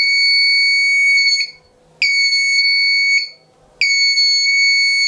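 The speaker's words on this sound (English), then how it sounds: "then immediately the buzzer high power red color indicator would be on like this" An IR-sensor-triggered buzzer alarm on a smart solar home project sounds three loud, piercing electronic tones, each lasting over a second with brief silent gaps between, with no talk.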